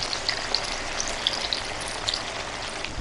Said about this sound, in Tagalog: Lagyan tayong mantika, Repa. Salang nyo natin yung tokwa mga Repa.